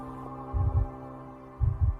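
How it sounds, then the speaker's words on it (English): Two double-thump heartbeats from a horror video game, each a pair of deep low pulses about a second apart, loud and close over a steady droning hum with no talking. "Can you hear the heartbeat?"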